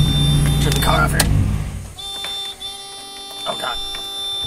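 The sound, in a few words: Miata key-in door-open warning buzzer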